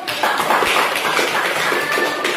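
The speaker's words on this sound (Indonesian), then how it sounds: "Kita tepuk tangan dulu." Students in a classroom applauding, a steady patter of many hands clapping together, fairly loud and sustained for a couple of seconds with no talking.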